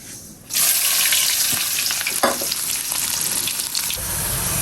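Cumin, onions and chilies hitting hot oil for fish bhuna, an abrupt loud burst of sizzling that holds as a dense, close crackle with a few stirring clatters and no talk.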